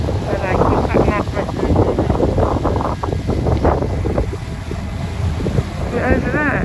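Strong wind buffets the microphone on a cruise ship deck near Cadiz, a loud continuous rumbling roar that swells and dips, with faint talk partly buried beneath it.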